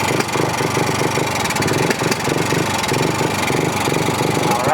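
A Polaris RZR 170 engine idles steadily and close up, a continuous rough, pulsing putter with no voices over it.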